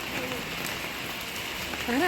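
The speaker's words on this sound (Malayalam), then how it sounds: "എന്ത് മഴയോ" Rain patters steadily in a soft, constant hiss at Guruvayur, and a voice briefly breaks in near the end.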